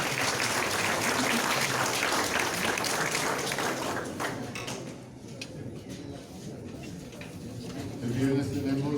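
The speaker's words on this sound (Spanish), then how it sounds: "Un aplauso." An audience applauds at a book presentation, with steady clapping from a crowd that fills the space, then thins and softens toward the end.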